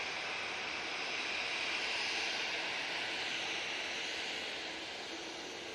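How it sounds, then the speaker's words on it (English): A Jet2 Airbus A321ceo jet airliner takes off from Manchester Airport, a steady broad engine roar held at a distant, even level throughout with no talk over it. "Jet2 A321 Neo, oh CEO, sorry, it's not Neo, CEO is now off Tenerife."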